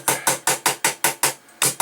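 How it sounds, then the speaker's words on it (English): A hammer taps lightly on a metal cup lid to flatten a bubble, eight sharp evenly spaced metallic strikes, close and clear, with one short pause near the end. "we'll start at the top, lightly pound at it, and then kind of curve the hammer down"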